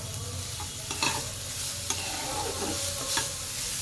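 Grated carrots for carrot halwa sizzle softly in a pan while a spoon scrapes and stirs them in several distinct strokes, close and steady with no talking.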